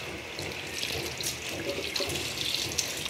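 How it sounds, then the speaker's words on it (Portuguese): A kitchen tap runs steadily while grapes are washed beneath it, a close, continuous splashing hiss of water with small bursts as the fruit is moved, with no talking. "Eu vou lavar direitinho, colocar no escorredor pra escorrer a água."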